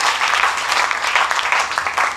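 A church congregation claps steadily and loudly in praise of the Lord, a dense, continuous wash of applause with no pauses.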